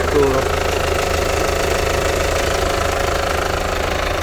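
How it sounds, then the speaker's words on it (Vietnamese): A Hyundai Santa Fe with a 2.2 turbo diesel engine idles with a steady low rumble and even mechanical knocking throughout, close and continuous, with no voices over it. "Rất êm, chỉ nghe thấy tiếng rung rung của động cơ thôi."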